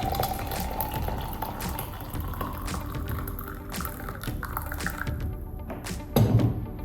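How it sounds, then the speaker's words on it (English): Hot, just-boiled water poured into a coffee press over whole cloves for herbal tea, a continuous close splashing trickle with light bubbling and a brief louder gush near the end. "Pour over it hot water"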